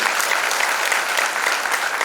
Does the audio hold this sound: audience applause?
yes